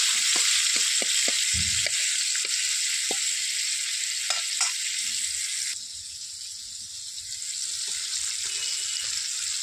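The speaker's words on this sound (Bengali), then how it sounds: "উচ্ছেটাতে আগের থেকে লবণ হলুদ মাখানো ছিল, এটাকে নেড়ে চেড়ে লাল লাল করে ভেজে নেব আমরা।" Bitter gourd coated with salt and turmeric fries in oil with a steady hiss, with clinks and scrapes from stirring near the start that thin out as the sizzle carries on.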